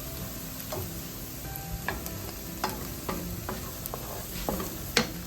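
Onions softening in a pan over lowered heat, a steady gentle sizzle broken by repeated spoon scrapes and ticks against the pan at an uneven pace.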